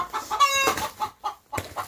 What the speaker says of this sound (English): Chickens are scary